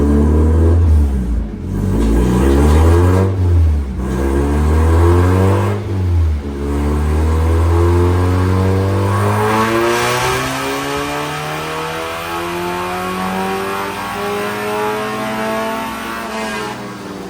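A Spec Miata engine revs on a dyno during a baseline run with factory timing and a slightly rich mixture, first blipping up and down a few times, then climbing in one long sustained loud pull.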